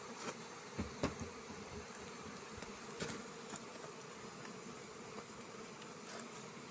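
A bee buzzes steadily at close range, droning on without a break, with a few faint knocks and rustles around it.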